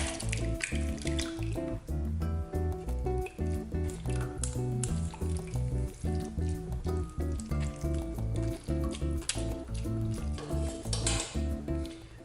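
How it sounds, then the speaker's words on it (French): Homemade mint syrup poured through a strainer and funnel into a bottle, giving a close, steady trickling and dripping with rhythmic liquid splashes throughout. "je vais verser mon sirop à travers la passoire"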